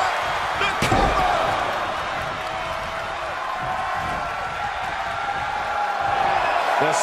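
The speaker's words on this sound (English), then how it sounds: "The sound of this crowd is deafening, and he's asking for more" A wrestling arena crowd roars loudly and steadily throughout a match, with a sharp slam impact near the start and a commentator talking over the noise.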